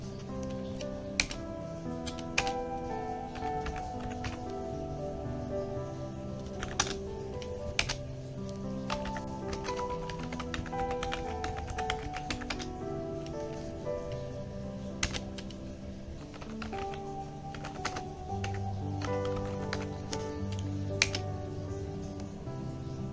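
Computer keyboard keys tapped in short bursts while a router interface command is entered during inter-VLAN routing configuration, crisp clicks over a steady background tone, no voices.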